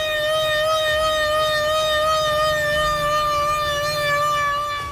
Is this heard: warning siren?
yes